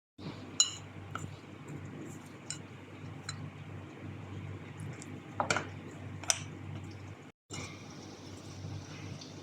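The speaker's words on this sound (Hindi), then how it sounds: "आप आटे को चमचे से मिक्स करिए ताकि हाथों में ना चिपके।" Spoon stirring chapati dough of flour, oil and water in a bowl, giving scattered light clinks and scrapes against the bowl over a quiet background, with a brief pause near the end.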